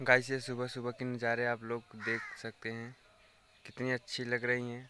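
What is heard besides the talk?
crows cawing in the early morning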